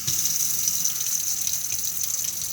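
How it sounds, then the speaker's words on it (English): Water runs steadily from a caravan tap in a Swift Elegance 580, fed straight from an Aquaroll container, a constant close hiss and gush with no pauses. "the water I'm getting here is literally just coming directly from the Aquaroll itself"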